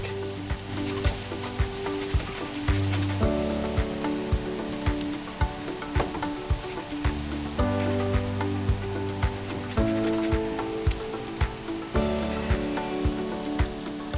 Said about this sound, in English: We're gonna cook this until all the aromatic is out from the garlic